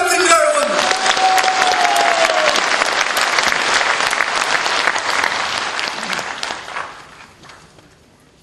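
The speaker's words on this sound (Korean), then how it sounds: "제 말씀 뜻 이해하시고 동의하시면 박수 한번 부탁드립니다, 여러분." Loud, dense crowd applause at a Gangwon political campaign rally, a roaring wash of clapping with some cheering that holds strong for several seconds, then fades away toward the end.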